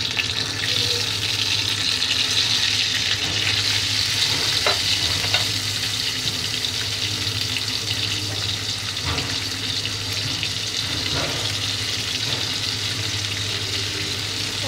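Eggs frying in hot oil with salt, a loud, unbroken hiss of sizzling with a few faint clinks throughout.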